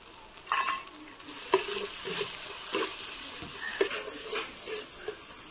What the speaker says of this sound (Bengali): সব মশলা বেশি করে তেল দিয়ে কষানো হয়ে গেছে